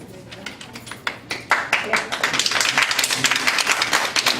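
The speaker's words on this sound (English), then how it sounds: "Please, this is not a clapping audience." An audience at a city council meeting breaks into clapping. A few scattered claps start it, then it builds into fast, loud applause close by, with voices mixed in.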